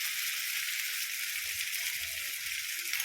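Potatoes frying with salt in a pan give a steady, even sizzle with a broad hiss that holds unchanged for about three seconds, quiet and close, with no voices.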